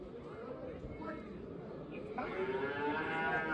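Cattle moo at a busy livestock market in Shymkent, a low call rising over a faint background of crowd chatter and voices.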